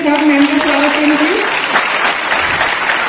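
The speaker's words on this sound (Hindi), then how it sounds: "एक बार तालियों के साथ मैम का स्वागत करेंगे।" An audience claps steadily to welcome a guest at a women's event in Sonbhadra, giving a dense, loud, continuous applause, while a voice briefly carries over the start.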